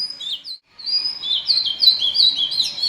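Close bird calling, a steady run of bright warbling chirps and whistled notes following a short gap, loud and alone with no talk.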